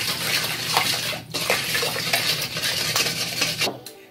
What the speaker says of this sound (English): we're going to mix this up first before we add in our flour